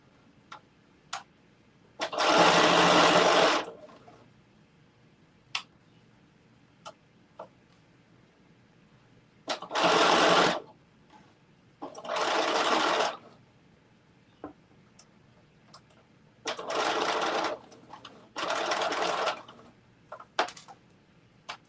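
A home sewing machine stitches a fabric bucket hat in several short bursts of rapid whirring, each lasting one to two seconds, separated by quiet pauses filled with small clicks and handling taps.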